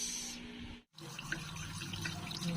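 Running tap water pours steadily as freshly picked sweet potato leaves are rinsed in a sink for fish sinigang, with a short break in the flow before it resumes.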